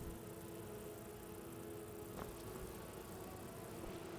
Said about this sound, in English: Maybe the bees are getting a little out of control